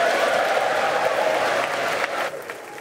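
Members of the US Congress give a standing ovation after a speech in the chamber, dense sustained applause that fades slightly toward the end.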